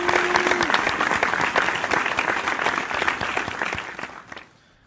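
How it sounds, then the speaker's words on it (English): A studio audience claps in a dense burst of applause that stays strong for about four seconds, then quickly dies away to near silence. "he deserves another round of applause."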